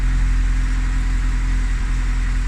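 A Lada Niva with a catalytic converter idles steadily up close, a loud, even mechanical drone with no revving.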